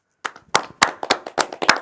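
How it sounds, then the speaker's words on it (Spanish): A small group claps in a studio setting of a live geek talk show, giving about seven loud, separate sharp claps in a loose rhythm, close by and with no talking. "¿Vamos a hacer un aplauso?"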